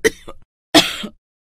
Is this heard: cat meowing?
no